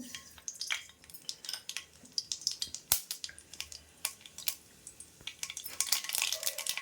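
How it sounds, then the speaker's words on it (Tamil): Mustard seeds splutter and pop in hot oil for a Dindigul-style coriander pickle, a dense run of sharp crackles with metal utensil clinks and stirring, close and fairly loud. "இப்போ எண்ணெய் காஞ்சிருச்சு நான் இப்போ கடுகு போட போகிறேன்"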